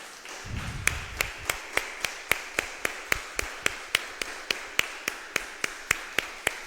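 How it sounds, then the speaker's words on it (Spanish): Rhythmic clapping from a church congregation, sharp evenly spaced claps in a steady beat lasting throughout, fairly close, with a brief low voice near the start. "Le damos un aplauso al Señor Jesucristo, hermano."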